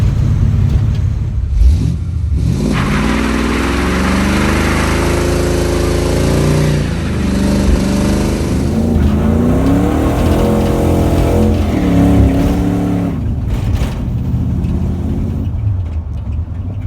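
A Chrysler VG Valiant hardtop fitted with performance parts runs loudly up close, its engine revving repeatedly with rising and falling pitch, alone and with no talking.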